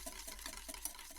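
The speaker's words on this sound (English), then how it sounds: "So by keeping it in a relatively small area, I can do a much better job of whisking it" Oil is whisked into mayonnaise in a small area of a bowl, giving a quiet, steady rhythmic clicking and swishing of the whisk.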